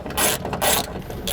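A ratchet works a fastener loose on a Honda window regulator motor, giving a few short bursts of rapid clicking separated by brief pauses, close and fairly loud with no voices.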